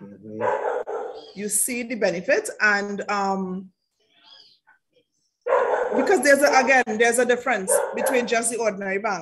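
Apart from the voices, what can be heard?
dogs barking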